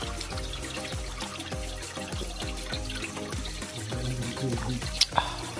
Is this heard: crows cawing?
no